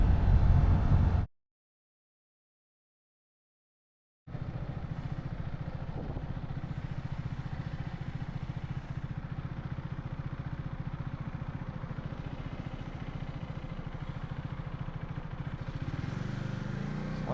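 A beginner rider's motorcycle cruises on the road in a steady, continuous engine drone after a brief silent gap, with faint road clatter underneath.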